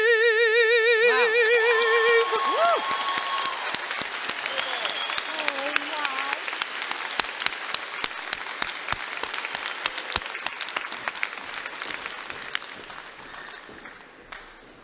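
Applause from a commencement audience right after the national anthem, starting amid lingering tonal sound and settling into dense, steady clapping that slowly thins and fades toward the end.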